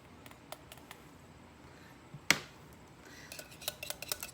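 A metal whisk works muffin batter in a bowl for blueberry oat muffins with yogurt, giving scattered light clinks, one sharp knock against the side, then a quicker run of small taps near the end. No one talks.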